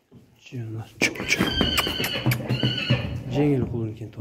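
A foal neighs in a couple of high, wavering whinnies, close and fairly loud, with a brief rustle and movement between calls.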